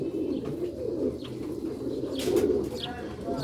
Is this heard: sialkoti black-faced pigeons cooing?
yes